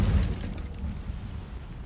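The Incendio fire spell goes off in Hogwarts Legacy as one abrupt, booming burst of flame at the start, then fades into a low, dull rumble.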